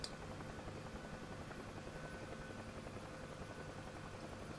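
Helicopter rotor drone in the DCS World flight simulator, a steady continuous whir with engine hum that holds at an even loudness throughout, with no talk over it.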